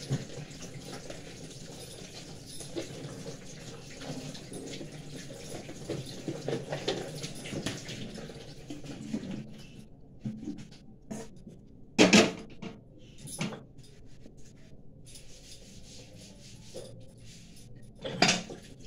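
Dishes hand-washed one by one under cold tap water on a chilly day, with running water splashing steadily and a few sharp clinks of dishes standing out alone late in the clip.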